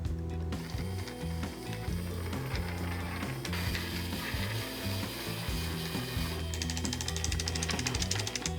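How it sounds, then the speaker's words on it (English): A small motor drives the gears and spool of a homemade web shooter, giving a continuous rapid ratcheting, clicking mechanical rattle that shifts in pitch and texture a few times, close and loud, with no one talking. "Turn on the little motor."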